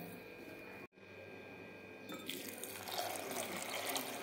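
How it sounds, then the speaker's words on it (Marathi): Water pours into a cooking pot over sprouted moth beans with turmeric and salt, a faint, steady splashing stream that cuts out for an instant and then grows fuller and louder. "शिजवताना भरपूर पाणी घालायचं."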